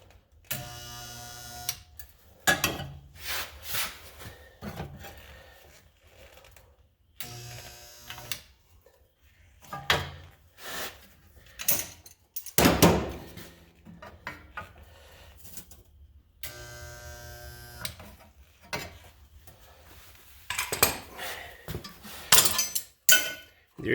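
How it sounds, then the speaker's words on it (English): Spot welder joining two steel rocker panels, a series of short buzzing and crackling bursts separated by quiet gaps, close and fairly faint. "There you got two rocker panels welded together."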